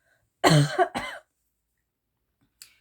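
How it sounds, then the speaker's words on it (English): Two or three harsh coughs in quick succession, close and loud, followed by silence and a faint short throat sound. "with me coughing just now"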